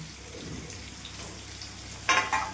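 Stuffed bitter gourds go into hot tempering oil, giving a faint, soft sizzle that flares into two brief louder crackles near the end.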